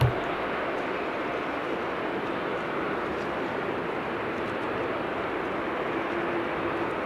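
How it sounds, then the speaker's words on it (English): An Aeromexico airliner rolls out after landing at Amsterdam Schiphol Airport, its engines a broad, steady roar heard from a distance, constant in level with no talk. "So the Aeromexico just landed."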